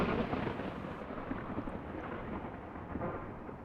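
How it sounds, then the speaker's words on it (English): A dry thunderstorm in the RimWorld video game gives a steady, dense rumble of thunder with a rain-like hiss. It stays loud and even throughout with no speech. "Dry thunderstorm."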